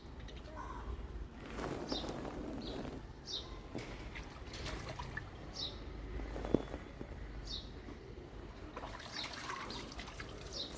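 Birds bathe in a small pool of water on a hot summer day, making soft trickling splashes and drips with a few faint chirps, quiet and close, with no talking.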